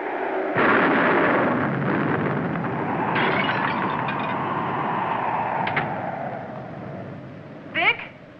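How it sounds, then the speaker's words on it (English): An explosion in the film Maracaibo bursts in with a loud broadband blast, then rolls on as a long roaring rumble that slowly fades, with a brief sharp squeal near the end. "The explosion caught him."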